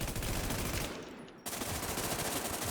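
Automatic gunfire in the video game WarZ rattles in dense, rapid bursts, loud and close, breaking off briefly in the middle before the fire resumes at full intensity.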